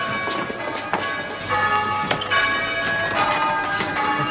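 Church bells ring loudly under a busy, clattering mix of other noise, the strikes blending into a continuous metallic clangour.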